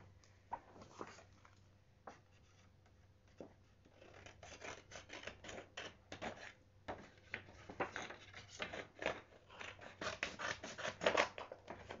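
Scissors snipping paper at a table during a craft lesson with a ruler at hand, a run of quick close crisp cuts that grows busier and louder toward the end, with light rubbing and handling noises between them.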